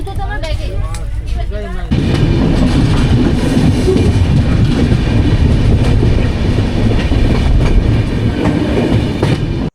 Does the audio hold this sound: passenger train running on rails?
yes